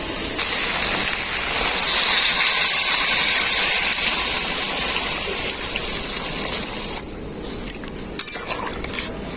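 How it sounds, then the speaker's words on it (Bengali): Water is poured in a steady gush into a pan of spinach and shrimp curry, loud and continuous for several seconds before cutting off, followed by soft bubbling and a light clink. "এখন আমি পরিমাণ মতো জল দিয়ে দেবো এর মধ্যে"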